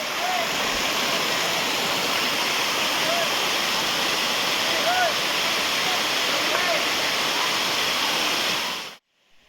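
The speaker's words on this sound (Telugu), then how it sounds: "ఈ కోన వాటర్ ఫాల్ వచ్చేసి ఎంత ఎత్తైన కొండ నుంచి అయితే పారుతున్నాయో" Kona Waterfalls in the Rayalaseema hills of Andhra Pradesh pour down from a high hillside with a loud, steady, close roar of falling water that carries on unbroken before ending abruptly.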